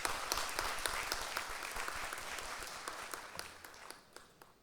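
Applause from officials at a Doordarshan Bhavan video wall inauguration in Delhi, a dense patter of many hands that holds steady and then thins slightly toward the end.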